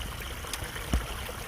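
A small waterfall on a hillside gives a steady, moderate rush and gurgle of flowing water, with a soft thump partway through.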